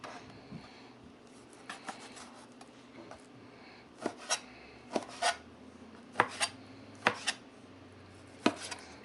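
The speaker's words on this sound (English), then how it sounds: "And then you take each piece and make them into matchsticks." A sharp knife slices pork into matchstick strips on a cutting board, giving a steady run of crisp, close chopping taps that grow more regular and pronounced as the cutting goes on.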